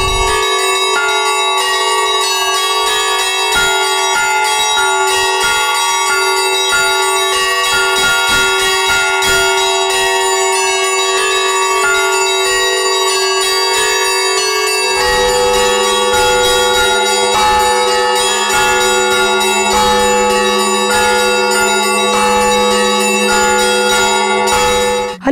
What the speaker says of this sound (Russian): В полдень в каждом соборе Русской Православной Церкви волной прозвучал колокольный звон